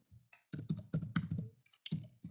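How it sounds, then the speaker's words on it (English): A computer keyboard is typed on in quick irregular bursts of clacking keystrokes with a short pause near the middle, close and clear with no talking. "I'm typing here"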